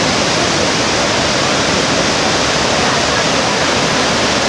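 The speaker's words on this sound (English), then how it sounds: "there's a lot of water coming over the falls at this time of year" Large waterfall near Pakse in southern Laos during the rainy season, heavy with water, roaring as a loud, constant broadband rush that stays steady for the whole stretch with no pauses.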